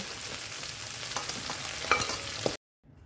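A fish head frying in hot oil, a close, steady sizzle with faint scraping stirs, cutting off abruptly near the end and followed by near silence.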